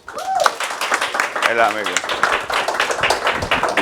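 Audience applause at a church gathering: scattered, uneven clapping runs underneath someone speaking loudly over it throughout.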